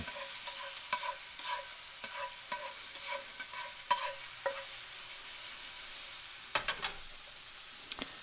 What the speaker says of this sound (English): Let's get that garlic sizzling there.